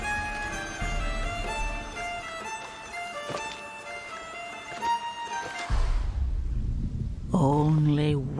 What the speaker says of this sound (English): So let's enjoy the storm a moment.